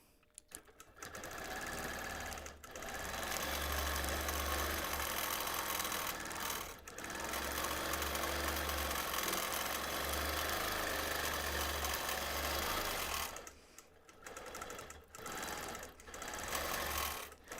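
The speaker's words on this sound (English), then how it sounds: "And now my bobbin's rattling." A sewing machine runs in long continuous bursts with a rattling bobbin, a close mechanical whir and rattle broken by brief pauses and a few stop-start stitches near the end.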